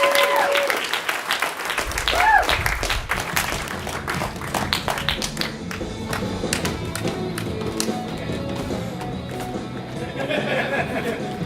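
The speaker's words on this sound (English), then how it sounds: "Please, once again, clap your hands, paws, or hooves for Mina and Tindy." An audience claps for the performing duo Mina and Tindy, a dense burst of applause that carries on steadily, with crowd chatter and a few thumps mixed in.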